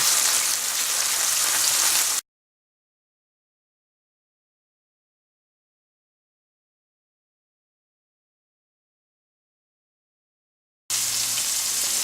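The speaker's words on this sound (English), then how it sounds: "That's going to take at least 5 minutes or so on each side because you want to sear it to keep the juices in" Pork loin searing in a hot pan for roasted pork loin, giving a steady broadband sizzle like light rain, heard alone at the start and end around a long stretch of silence.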